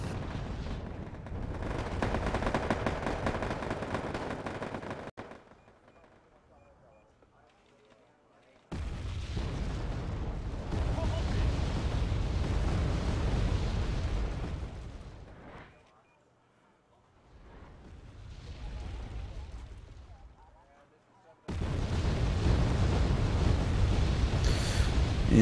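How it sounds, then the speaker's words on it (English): Artillery fire and explosions in the Wargame Airland Battle video game, loud rumbling blasts in long dense bursts broken by quieter gaps, with voices talking at times. "Yeah, I guess they're just artillery spamming."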